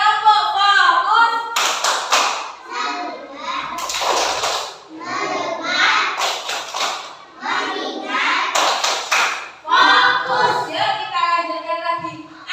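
A classroom of children does a rhythmic focus-clapping routine, bursts of claps falling in patterned groups with children's voices chanting and talking throughout.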